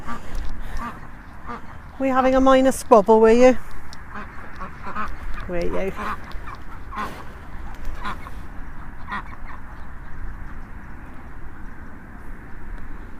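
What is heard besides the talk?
ducks quacking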